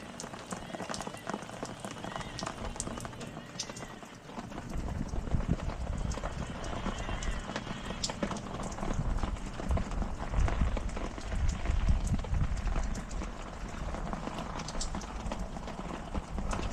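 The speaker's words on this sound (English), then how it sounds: "Yep, it's raining." Steady rain falls and patters on a lawn and a robotic mower throughout, a dense, continuous hiss that swells slightly partway through, with a thunderstorm in the distance.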